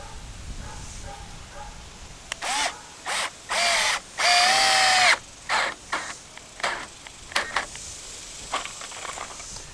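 A power drill drives screws into wood, whirring in short bursts, several quick pulses and one longer run, close by, with brief pauses between.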